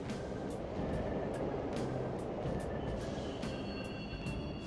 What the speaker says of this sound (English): The trains are totally running. Of course they are. We're in the subway